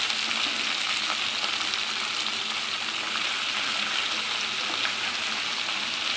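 About half a kilogram of washed cabbage fries in a pan, giving a steady, loud sizzle with a constant hiss and no pauses.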